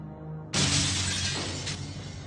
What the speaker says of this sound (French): Il y avait un bruit de verre brisé.